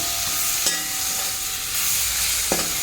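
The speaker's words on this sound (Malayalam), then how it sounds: "നമുക്കിതൊന്ന് ഇളക്കി കൊടുക്കാം" Masala with fried onion and tomato stirred in a pan, a soft continuous sizzle with two sharp spoon scrapes against the metal, close and steady, with no voices.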